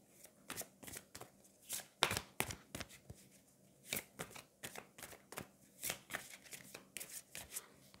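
Tarot cards being shuffled and handled, a series of quick papery riffles and slaps in irregular bursts with short gaps, close and fairly quiet, with no talk.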